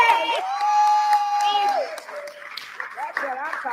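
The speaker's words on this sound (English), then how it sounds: "let's give a round of applause to the trustees" At a village board meeting, a brief cheer goes up for the trustees, a loud voiced whoop and crowd shouts with some scattered clapping, quickly giving way to speech.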